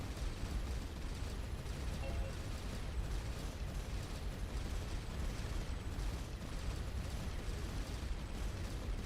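Weapon fire and explosions from the space game Starcom: Nexus, a continuous dense barrage of booming bursts and mechanical clatter that holds steady and loud for the whole stretch with no pause.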